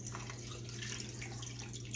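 Water pours into a casserole pot as a cup of water joins beef broth and rice, a short continuous splashing trickle heard up close.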